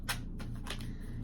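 Tarot cards being shuffled and drawn by hand, giving a few quick papery riffles and slaps at close range over a steady low background hum.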